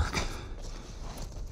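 Horse hooves clop in The Last of Us, a few soft, quick footfalls near the start over a steady low ambient game background.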